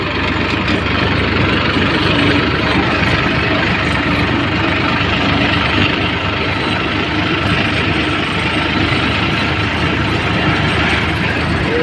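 A tractor's diesel engine idles steadily up close beside a river, a continuous rattling, clattering drone with no pauses and no voices.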